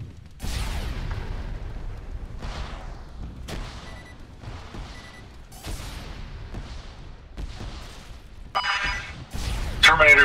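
Explosions and gunfire sound in the military video game ARMA 3 during a castle assault. Several distant booms and sharp bursts are spread across the stretch, growing louder toward the end, with players talking over them.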